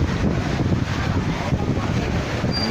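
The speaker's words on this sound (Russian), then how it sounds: "А еще ветер дует такой, что все летает." Strong wind during rain in George Town, Penang, roars steadily and buffets the microphone, a dense continuous rushing noise with gusty low rumbles throughout.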